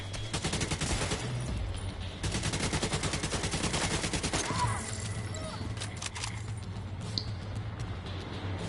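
Rapid automatic gunfire rattles in long, dense bursts while enemies are shot in The Division 2, with a brief pause before further volleys and a few scattered cracks trailing off under faint background game noise.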